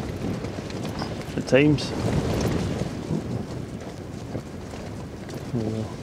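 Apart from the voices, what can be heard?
wind rattling a tent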